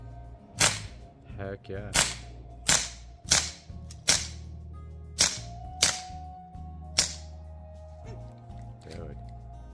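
A replica Glock 9mm pistol fires about eight sharp shots in quick succession, loud and cracking with short echoing tails, with voices talking between them.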